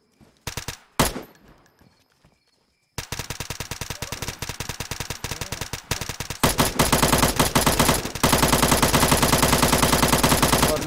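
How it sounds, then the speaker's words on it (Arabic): Rapid automatic gunfire in the survival game DayZ on the Takistan map, starting with a few scattered shots and then turning into long loud bursts that go on almost without a break. "خلي اضرب طلقة"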